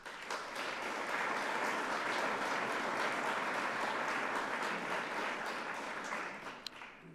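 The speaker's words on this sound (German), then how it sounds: "das hat Ihren herzlichen Applaus verdient" Warm, sustained applause from guests at a literary lecture event honoring the organizers, even and steady before tapering slightly at the close.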